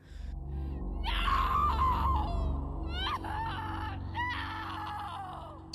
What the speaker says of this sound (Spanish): ella comenzó a gritar, pero ese grito sonaba demasiado distante.